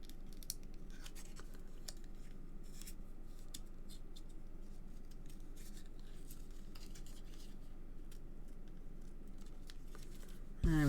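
Scissors snipping out a piece of card for a handmade ink-stamped card, a steady run of soft close cuts and scrapes lasting several seconds, with no talk over it.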